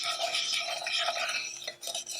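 A whisk beating old-fashioned gingerbread batter in a bowl, making continuous close scraping and swishing strokes that carry on without talk and briefly pause near the end.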